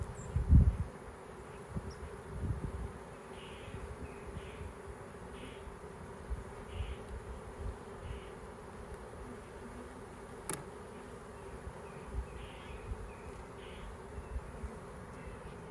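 Honey bees from a swarm trap hive buzz in a steady, low drone throughout, with a louder knock near the start and a brief sharp click midway.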